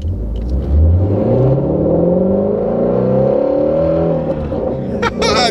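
A supercharged Shelby GT350 engine revs hard under acceleration, its raspy roar climbing steadily in pitch for several seconds, loud and close throughout, with a brief burst of other noise near the end.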